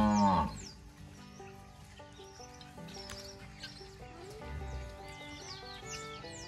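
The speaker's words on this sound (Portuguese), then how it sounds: "eu coloco os bezerrinhos pra lá, depois coloco as vacas" Cows on a dairy farm at milking and feeding time: a loud, close moo at the start, then more lowing and mixed farmyard animal calls continuing steadily in the background.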